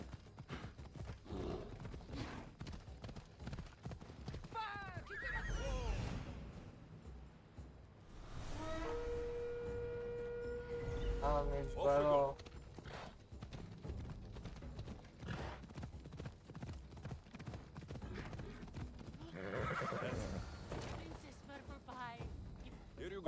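A horse in Assassin's Creed Odyssey gallops with rapid clip-clopping hoofbeats and gives a couple of neighs, set among game sound effects while someone talks over much of it.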